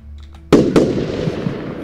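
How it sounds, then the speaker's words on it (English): Fireworks in the Roblox game Lumber Tycoon 2 burst twice in quick succession, sharp loud cracks followed by a crackling, hissing tail. "That is a lot of fireworks."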